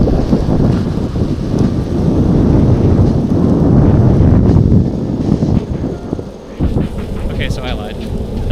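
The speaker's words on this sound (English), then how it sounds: "one thing I'm also going to test for you guys is the wind reduction." Wind buffets the microphone of a DJI Osmo Action 4 camera during a wind reduction test outdoors by green water, a loud, rumbling, gusty roar that fills the whole stretch and briefly dips near the end.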